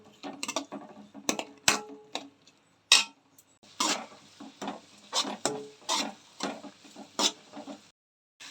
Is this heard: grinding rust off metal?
no